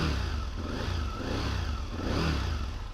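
A 20-year-old Italian sport motorcycle engine running close by, a loud, continuous rumble with slight rises in revs and no talking.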